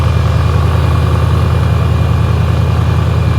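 A 4x4 with leaking airbag suspension idling while the EAS and ARB compressors run, a loud, close, steady engine drone with an even rhythmic pulse and no breaks.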